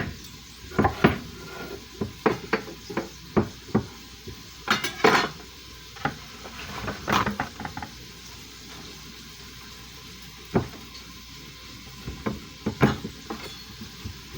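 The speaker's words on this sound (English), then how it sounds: "I can chop this up now because this is going to need to cook." A knife knocks steadily on a cutting board while rutabaga and other vegetables are chopped into small chunks for homemade chicken and veggie soup, a close series of sharp, irregular taps with short pauses between them.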